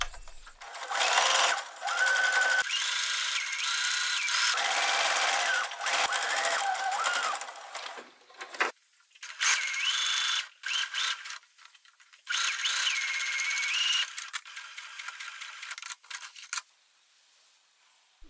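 A sewing machine stitches fabric lining to straps for a summer top, running in several short stretches with brief stops in between. The whirring is fairly quiet and close, with no voices.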